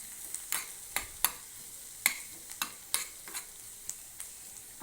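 Spiced chicken fries in a little oil in a small wok with a faint sizzle, punctuated by a series of sharp, irregular spatula scrapes and clicks against the pan.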